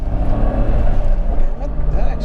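A stock Nissan Skyline GT-R R32 with a 30-something-year-old engine accelerates, a loud close engine drone with low rumble building steadily, heard from inside the car with people talking over it.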